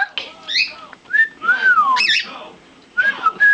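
A pet cockatiel from a breeding pair whistles close up in bright, sliding rising and falling phrases, several short bursts with brief pauses, loud and clear with no talk underneath.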